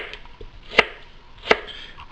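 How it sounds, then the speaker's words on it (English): A knife slicing an onion on a cutting board, two crisp isolated cuts about three-quarters of a second apart, close and clear with quiet between them. "I'm going to carve little slices."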